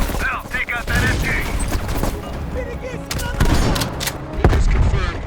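Gunfire crackles through a Call of Duty Cold War battle scene, bursts and booms layered over dense combat noise with voices speaking, including a heavy blast near the end.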